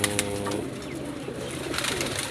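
Flying pigeons in a rooftop loft keep up continuous low cooing beneath a dense, noisy outdoor background, with occasional higher calls and no talk.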